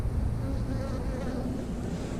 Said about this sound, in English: It's got bees on it.